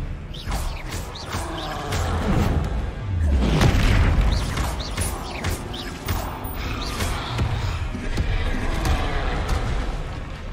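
Spell explosions and magical combat blasts from the video game Hogwarts Legacy, a dense run of booms, crashes and pops following one another over a continuous rumbling game soundtrack, loud and busy throughout.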